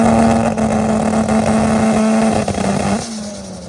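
Turbocharged car engine revving steadily on 2-step launch control at a track, a loud sustained buzzing drone that drops off near the end.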